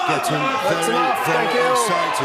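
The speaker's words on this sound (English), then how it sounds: "The crowd getting very excited" An excited snooker crowd cheers and chatters at the deciding frame of the 2014 UK Championship final between Ronnie O'Sullivan and Judd Trump. Many overlapping voices form a dense, continuous roar at steady loudness throughout.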